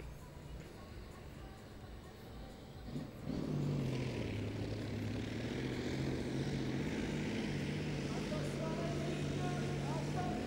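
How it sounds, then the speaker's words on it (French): A pulling tractor's Transmash engine fires up after a compressed-air start at a French tractor pulling championship in Bernay, with a low steady drone settling in around three seconds and running loudly to the end, alongside commentary. "ils viennent pousser un piston pour lancer le moteur Transmash"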